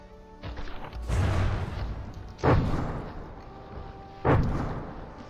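Artillery shells from a naval gun duel in the game From the Depths crash down nearby, three heavy booming impacts spaced about a second and a half apart, each with a rumbling tail, loud and close.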